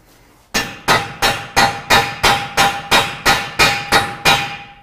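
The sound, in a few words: battery-operated hammer loosening axle shaft nut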